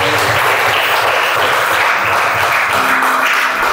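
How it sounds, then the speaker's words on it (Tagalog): Loud, dense applause from a church congregation fills the space steadily for nearly four seconds, with no voices breaking through. "Minsan pabigyan natin ng pinakamataas na palakpak ang ating Diyos na Christ."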